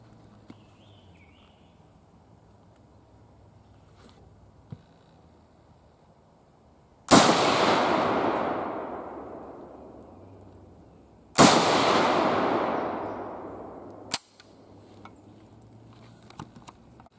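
Two loud, close Romanian PSL rifle shots on a 100-yard outdoor range, each a sharp crack with a long rolling echo, spaced a few seconds apart over quiet background with faint small clicks.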